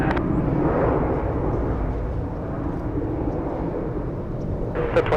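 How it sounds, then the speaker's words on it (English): A Boeing 777 airliner on final approach to LAX passes as a broad, distant roar that swells and then gradually fades, with a brief clatter near the end. "big 777 on final approach"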